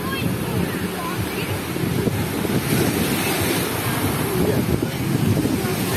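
Sea surf breaking continuously at Luzanovka beach in Odesa, with strong wind buffeting the microphone, a loud, steady rushing wash throughout.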